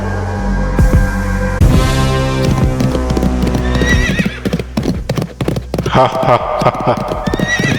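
Horse whinnies and galloping clip-clop hooves in an animated Bengali fairy-tale scene, loud and close, with a long neigh early and rapid hoofbeats continuing under music and effects.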